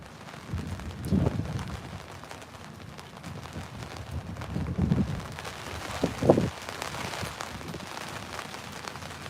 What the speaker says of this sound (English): It is windy and raining.